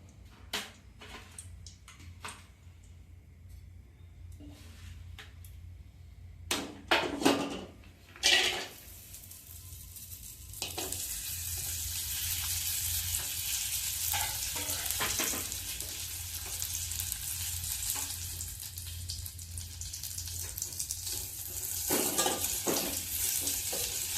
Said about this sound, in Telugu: నెయ్యి వేసుకుందాం అండి. జీడిపప్పు, కిస్మిస్ వేపుకుందాం.